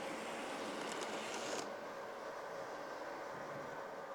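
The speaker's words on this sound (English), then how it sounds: "And then up comes the loco." A model railway locomotive runs along the track of a layout at a model railway society show, a steady low mechanical rumble and whir that holds evenly throughout, with a brief brighter hiss early on.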